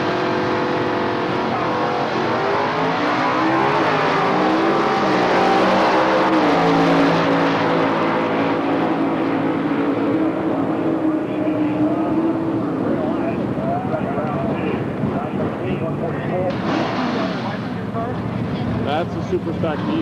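Super Stock D drag racing car at an NHRA Super Stock and Comp event in Gainesville, 2003: a loud, continuous engine roar with shifting harmonic pitch over the full run, heard under steady commentary.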